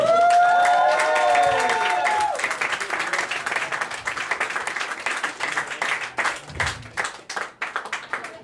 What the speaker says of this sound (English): Nathan Moroney, big round of applause for his time!